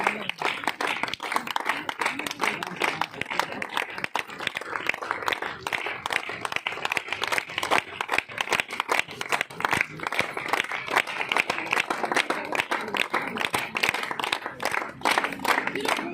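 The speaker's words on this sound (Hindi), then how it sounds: "तो चलिए जोरदार तालियों से वेलकम कराते हैं।" Sustained, dense applause and clapping from an audience welcoming a guest onto a stage, loud and steady throughout with crowd noise mixed in.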